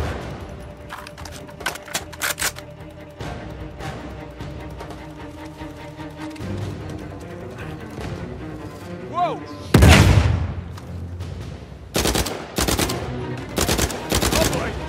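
Laser gun firing in the game Uncharted 4, loud rapid bursts of shots separated by pauses, with a heavy boom partway through and more volleys toward the end.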